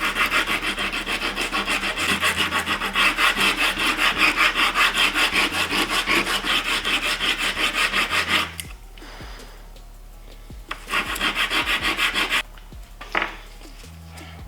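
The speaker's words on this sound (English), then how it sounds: "We're just gonna start sanding." Wood is rubbed back and forth on sandpaper clamped down to a surface. Steady, loud rasping strokes repeat in a quick rhythm, pause for a couple of seconds, then resume in shorter bursts.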